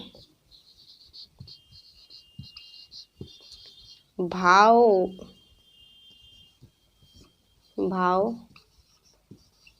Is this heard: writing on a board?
yes